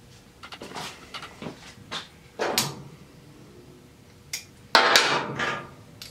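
Pin knocked out of the differential shaft and axle shaft on a 2002 Polaris 500 Sportsman ATV, a series of sharp metallic taps and heavier hammer blows at irregular intervals, close and loud with quiet gaps between.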